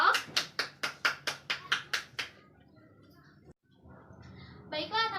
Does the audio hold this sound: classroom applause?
yes